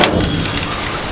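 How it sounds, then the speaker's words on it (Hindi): Light rain patters steadily outside near a rooftop, a dense even hiss of small drops, fairly loud and close, with no voices. "बारिश हो रही है अभी थोड़ी थोड़ी।"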